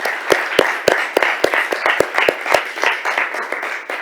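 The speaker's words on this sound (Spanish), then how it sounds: "Pido de nuevo un aplauso para la intervención del secretario de Estado." Close, sharp hand claps from a conference audience after a Spanish secretary of state's environmental speech, sounding as a brisk, fairly sparse round of applause with distinct individual claps and no talking.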